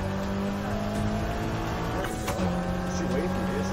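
A car cruises along steadily in Need for Speed Heat, a Mitsubishi Lancer in the K.S Edition, its engine a continuous mid-level drone with dense layered harmonics. Game music and effects sit under it, and a brief swell comes midway.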